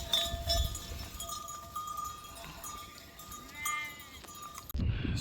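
A herd of goats bleating repeatedly along a mountain trek path near Panchachuli base camp, several calls overlapping at close to middle distance over outdoor wind, with faint bell-like tinkling.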